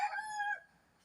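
A rooster crows once, loud and close, a bright harmonic call lasting about half a second before cutting off into quiet.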